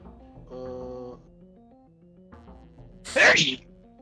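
A single loud, sharp sneeze bursts out close by, preceded by a few quiet voiced sounds.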